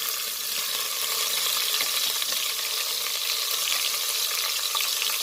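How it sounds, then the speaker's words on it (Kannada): Onions fry with cinnamon, cloves and cardamom for Malenadu chicken biryani, making a steady, close sizzle with no one talking. "ಈಗ ಸ್ವಲ್ಪ ಫ್ರೈ ಮಾಡ್ಕೊಳ್ಳೋಣ."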